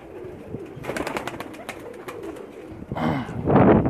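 Pakistani breeder pigeons, including a shy female, coo close by in soft repeated calls, with a fuller burst of cooing toward the end.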